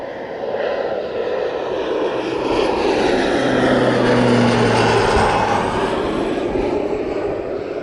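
An airplane flies overhead near a Canadian flight school, a loud, steady broadband engine roar that swells toward the middle and slowly fades, with no talking over it.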